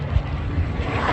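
Aer Lingus airliner at Manchester Airport, a steady low engine rumble heard from a distance with no talk over it.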